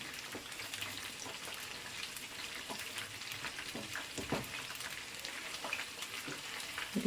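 Garlic kebab pieces fry in hot oil with a steady close sizzle broken by frequent small spattering pops, and no voices.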